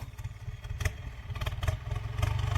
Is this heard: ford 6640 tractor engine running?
yes